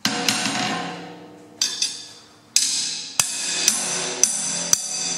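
A hammer strikes flat on thin sheet metal being straightened before tack welding: about eight sharp, ringing taps at irregular intervals, close and clear, each leaving a short metallic decay.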